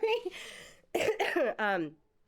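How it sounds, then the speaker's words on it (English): A sharp cough from someone just over the flu bursts out close by, followed by a couple of rough, voiced throat sounds before falling quiet. "I'm holding back coughing because I just got over the flu last week"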